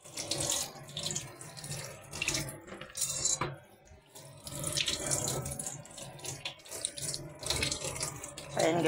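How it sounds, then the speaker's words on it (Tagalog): Tap water runs steadily into a cooking pot at a kitchen sink, a continuous splashing rush with brief breaks, fairly close. "lagyan natin ng tubig"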